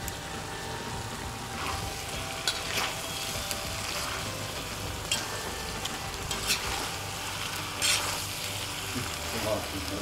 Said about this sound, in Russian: Перемешиваем томаты.